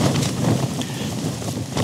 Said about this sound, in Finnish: Nyt se tuuli on selvästi voimistunut siitä.